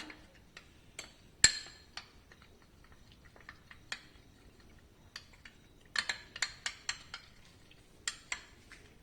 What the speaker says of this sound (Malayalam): ഈ കോൺഫ്ലോറിലേക്ക് നമുക്ക് ഒരല്പം പാൽ ഒഴിച്ചു കൊടുത്ത് ഒന്ന് മിക്സ് ചെയ്ത് വെക്കാവേ